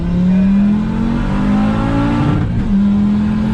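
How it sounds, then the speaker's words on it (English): An Audi UrS6 C4 with an AAN big turbo upgrade and VEMS engine control accelerates hard through second and third gear, its loud droning engine note rising steadily, dipping briefly at the gear change, then climbing again from inside the car. "give it a whirl, second and third gear. Don't let out the throttle"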